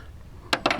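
Two quick metallic clinks of loose ammunition rounds dropping onto a hard surface at a shooting range, faint and close, after a moment of quiet.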